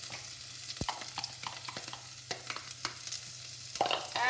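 Green chili and ginger sauté in hot oil in a pan while Aloo Matar is being made. A quiet, steady sizzle runs under scattered sharp spatula scrapes and taps close by, with no voices.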